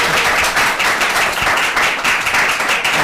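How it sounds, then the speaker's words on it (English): An audience at an evening elections talk at Washington University's Gephardt Institute applauds in a dense, continuous wash of many hands clapping at once, sustained and even throughout. "Yes, clap."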